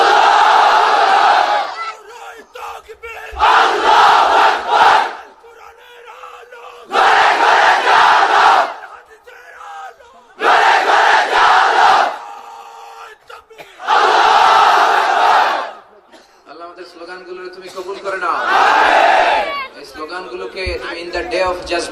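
A large crowd at a Muslim religious gathering under a stage pandal chants slogans in loud unison bursts of about two seconds, each answering a leader's shorter call in between.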